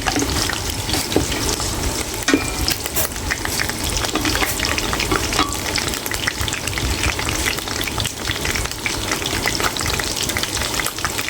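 Stalks of lemongrass fry in hot oil in a pan as the base for nasi lemak, giving a steady, loud, dense sizzle with faint stirring and clinks throughout.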